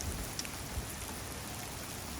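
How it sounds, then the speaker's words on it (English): Steady, heavy rain pours down on the Appalachian Trail in the morning as a dense, even hiss with occasional nearer drops. It fills the whole moment with no voices. "it is just pouring down rain"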